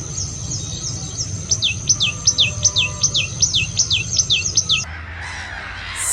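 A tailorbird calls with a rapid series of about ten loud, sharp, repeated chirps in a steady rhythm over a low outdoor background hum, then stops abruptly.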